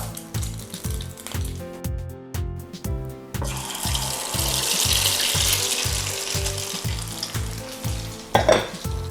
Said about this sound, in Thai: เรามาเริ่มเจียวไข่กันได้เลยครับ